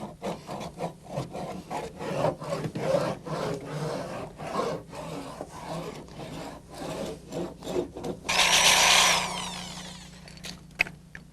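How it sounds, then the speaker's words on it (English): Hand sanding of a thin coat of Bondo body filler on a car body panel, with repeated rhythmic rasping strokes close to the microphone, then a brief louder burst near the end. "and sand it just a little bit smoother"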